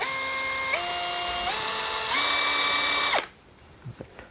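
A JPT 21V heavy-duty cordless impact wrench spins freely at high speed, a loud steady motor whine that steps up in pitch several times before cutting off abruptly, leaving near silence.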